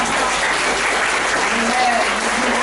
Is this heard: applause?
yes